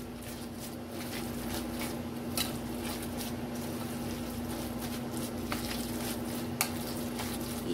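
Tri tri cake batter with flour is mixed by hand, a steady wet squelching and stirring under a constant low kitchen hum, with occasional sharper clicks against the bowl.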